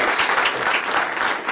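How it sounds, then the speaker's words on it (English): An audience at an Ignite Newark talk night bursts into loud, dense applause, a continuous close wash of clapping with no voices standing out. "a little extra round of applause"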